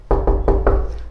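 Four sharp, evenly spaced knocks on a door, rapid and close, sounding alone.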